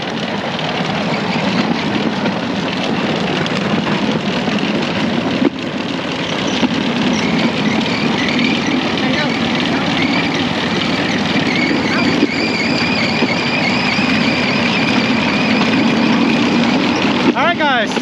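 A bamboo train runs on rails in Battambang, Cambodia, giving a steady, close rumbling clatter that continues unbroken throughout, with voices talking over the noise.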